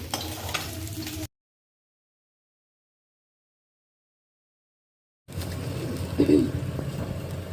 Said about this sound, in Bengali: সব মাছগুলো এইভাবে ভেজে নিলাম।